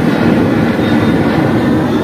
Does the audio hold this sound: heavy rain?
no